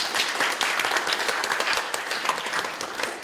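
A large audience applauds to open the 10th anniversary Electromagnetic Wave Safety Forum, a loud, dense and continuous round of clapping from many people.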